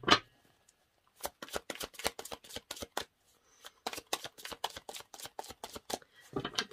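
Tarot cards being shuffled by hand in a long run of quick, crisp riffling bursts, each a sharp papery flutter, close and fairly loud with brief pauses between, ending in a short soft rustle.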